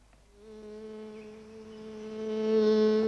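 A bee buzzes nearby with a steady droning hum that swells louder over about three seconds, heard alone.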